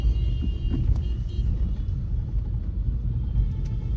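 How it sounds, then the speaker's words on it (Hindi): Vehicles stuck in a total traffic jam beside construction work in Bhajanpura make a steady, close low rumble of idling engines that continues without a break, with no voices. "सारा जाम है, टोटल जाम है।"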